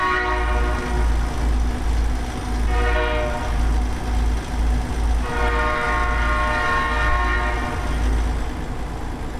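Rumbling engine drone from a truck in American Truck Simulator runs steadily as a game train passes nearby, sounding two long horn blasts, one early and one stretching through the second half.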